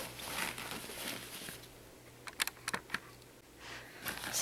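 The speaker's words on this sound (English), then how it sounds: "So we just open up the nice double zips in the main compartment here." The double zippers on the main compartment of a TWELVElittle Companion Backpack are pulled open, making raspy close zipping runs at the start and end with small clicks in between and no talking.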